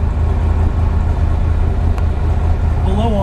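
A 1966 Chevrolet Corvette big block V8 idles on a cold start with a deep, steady rumble close by; a voice begins speaking near the end.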